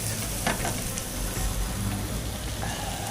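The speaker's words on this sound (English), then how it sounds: "we're just getting them just coated in the butter and the onions and the garlic" Sliced mushrooms frying in melted butter with onions and garlic in a pan for Steak Diane, a steady close sizzle with light stirring and utensil scrapes throughout.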